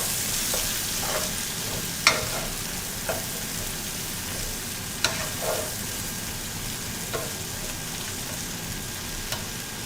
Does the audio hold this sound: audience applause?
no